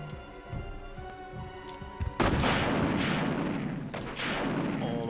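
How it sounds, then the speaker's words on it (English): A rocket launcher fires at the final boss in the PS1 game Resident Evil. A loud blast comes in over the game music, followed by a sustained roaring rumble and a second explosive burst. "Oh, it's a rocket launcher!"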